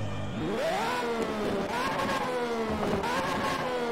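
A LaFerrari mod car in the racing game Shift 2 Unleashed, its engine revving and climbing through gears with rising and falling tone, loud and continuous with a high exhaust whine.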